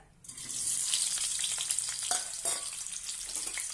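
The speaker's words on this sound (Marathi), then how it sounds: "आता आपण हे उकडलेले बटाटे यामध्ये घालूया" Boiled potatoes fry in hot oil in a kadhai, a steady close sizzle with scattered crackles and pops that starts abruptly and continues throughout.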